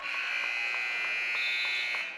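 A shrill electronic buzzer sounds at the end of the first quarter of a girls high school basketball game, one sustained tone held steady and loud for about two seconds.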